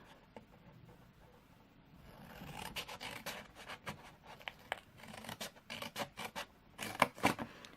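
Snips cut card up to a score line for a mini album gift box, a run of short, crisp snipping clicks in an uneven rhythm, close and fairly quiet against a soft background.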